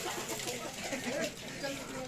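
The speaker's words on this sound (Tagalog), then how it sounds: "Ay mga manok ko guys oh" Chickens cluck faintly in the background of a racing pigeon loft, soft short calls rising now and then beneath close talking.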